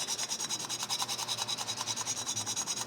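A file rasps steadily against the teeth of a hand saw, repeated strokes in an even quick rhythm, close and fairly loud with no talking.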